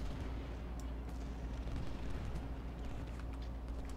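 Musket and artillery fire from the Civil War strategy game Ultimate General: Gettysburg, a steady low rumble of distant volleys with scattered faint cracks, continuous and without speech.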